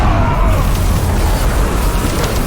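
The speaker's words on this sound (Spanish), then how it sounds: "Furioso, Thor interviene con su mazo y golpea el suelo causando una gran explosión." A large, deep boom from a hammer slamming into the ground in a video game, loud and close, with a rumbling roar that sustains evenly before cutting off abruptly.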